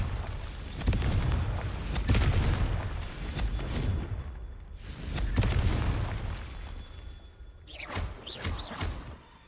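Repeated booming blasts from the Confringo fire spell in the Hogwarts Legacy video game, several heavy explosions with whooshing tails spread across the stretch, fairly distant and soft in level.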